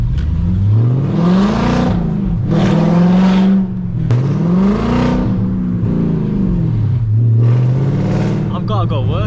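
A loud Audi V8 car engine revs hard in repeated surges while driving, each burst climbing and falling in pitch with short gaps between shifts, heard close from inside the car.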